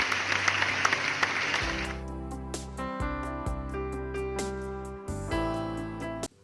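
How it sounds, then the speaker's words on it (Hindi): A congregation at a Hindi Sunday church service claps loudly to welcome a speaker. The dense applause lasts under two seconds, then gives way to sustained keyboard music. "हम जोरदार ताली बजा के स्वागत करेंगे हमारे गवाह का"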